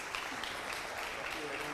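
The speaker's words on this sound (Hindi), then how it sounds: "तालियां बजती रहनी चाहिए।" Audience applause at a talk about Neeraj Malviya's income rising from 3 lakh to 11 lakh, a steady dense wash of clapping at moderate level, with no gaps across the short stretch.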